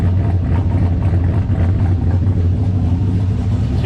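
A car engine fitted with a Huron Speed turbo idles steadily at close range on its first start, a loud, continuous low rumble with a slight choppy lope and no talk over it.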